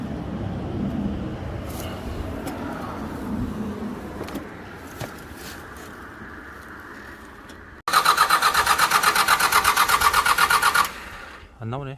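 An old scrap-bound tractor engine being cranked to start, a loud fast rhythmic chugging of the starter that runs for about three seconds and stops without catching, after a stretch of low background noise and people talking.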